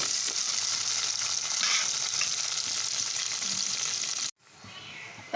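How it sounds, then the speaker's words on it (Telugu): Onions, curry leaves and green chillies frying in hot oil for a curry, a loud, dense, steady sizzle close up, with faint stirring scrapes, breaking off abruptly near the end before resuming more quietly. "ఇప్పుడు కట్ చేసుకుని ఆనియన్స్, కరివేపాకు, పచ్చిమిర్చి తీసుకొని ఆయిల్లో ఫ్రై చేసుకోవాలి."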